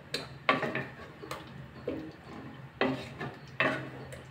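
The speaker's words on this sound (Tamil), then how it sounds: "நல்லா மிக்ஸ் பண்ணிடலாம்." A beetroot curry being stirred in a pan after a splash of water is added, heard as about five distinct scraping clinks of a spoon against the pan, separated by short quiet gaps and close by.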